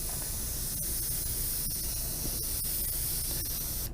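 A spray gun sprays gray paint outside a booth, giving a continuous loud, even hiss that holds steady throughout with a few faint clicks and no talking.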